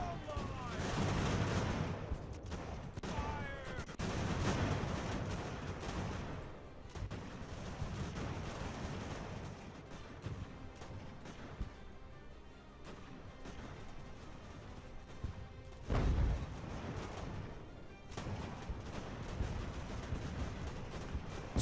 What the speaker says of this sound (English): I actually need to do artillery shelling again